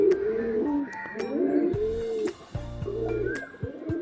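Male pigeon cooing close by, a repeated series of soft, throaty, rolling coos in a steady rhythm, with faint clicks and distant chirps behind them.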